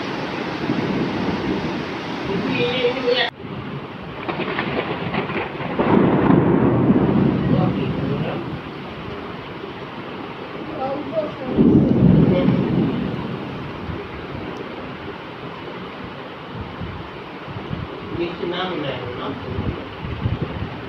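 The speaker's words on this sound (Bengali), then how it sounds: "এত গরমের পরে বৃষ্টি নামলো।" Rain falling after intense heat, a steady broadband wash with heavier rumbling swells like thunder and wind gusts on the microphone, while people talk intermittently over it.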